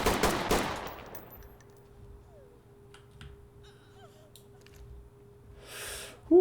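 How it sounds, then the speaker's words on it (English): Gunshots fire from a suspect inside a building during a Ready or Not mission, starting with a loud close burst and then trailing off into quiet, with a few faint scattered cracks and a sharp hit at the end. "I expected her to come out shooting, and she did"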